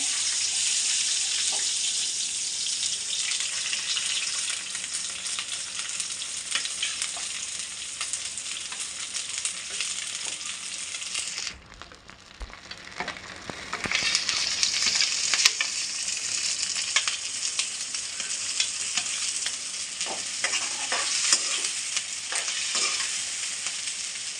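Onion and green chillies frying in a pan for a fish curry, a steady loud sizzle that dips briefly midway as the pan is stirred, then returns with occasional scraping clinks.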